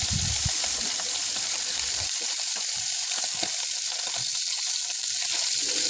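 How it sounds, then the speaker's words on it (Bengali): Fish rubbed with turmeric and salt fries in oil on high heat, giving a steady, even sizzle that runs throughout without any voices. "এখন হাই হিটে মাছটা ভেজে নেব"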